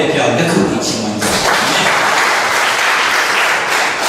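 A church congregation breaks into loud, sustained applause during a sermon, dense clapping that fills the room with voices mixed in.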